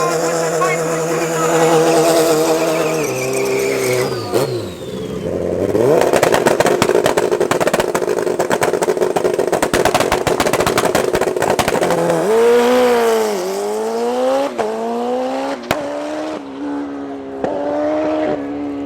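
A drag racing motorcycle at Tarlton International Raceway, loud engine revving and accelerating with climbing pitch sweeps and a rough, crackling stretch in the middle before the revs rise and fall again, with faint talk underneath.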